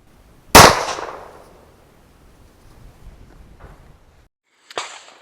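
A Taurus PT99 pistol fires a single 9mm rat shot round, making a sharp loud crack with a decaying echo, followed a few seconds later by a fainter clack.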